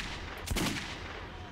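A single pistol shot fired in the video game Metro 2033 cracks out close and loud amid a dense background of game ambience, with no other distinct shots following.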